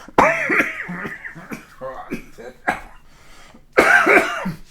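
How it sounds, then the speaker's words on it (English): A person coughs in a harsh burst, then talks with lingering throaty coughs and laughter, and coughs again more strongly near the end. "Just you start laughing and you cough."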